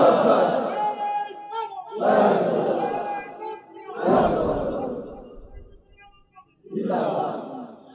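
A large crowd at an Islamic sermon answers the call with loud shouted chants of Allahu Akbar in four forceful bursts, each broad roar separated by brief pauses.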